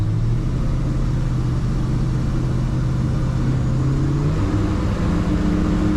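A 1971 Chevrolet C10 pickup truck engine drones loudly and steadily from inside the cab, its pitch rising and shifting as it accelerates and the automatic transmission kicks down and changes gear.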